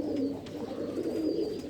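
A female pigeon cooing close by, a steady low throaty murmur that rolls on without a break.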